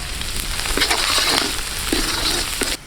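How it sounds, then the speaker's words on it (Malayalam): Finely chopped garlic hits hot oil in a Chinese kadai for quail noodles, giving a loud, steady close-up sizzle with a few crackles and stirring scrapes that stops abruptly. "ചൂടായ ഓയിലിലേക്ക് നമുക്ക് നമ്മുടെ ഗാർലിക് ഇട്ട് കൊടുക്കാം"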